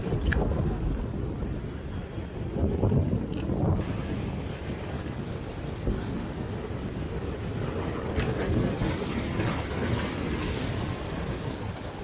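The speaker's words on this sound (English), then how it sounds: "the ocean is coming in full force" Ocean surf crashes against a rocky Northern California shoreline, a continuous loud wash of water with bursts of spray. Steady wind buffets the microphone throughout, and no one speaks.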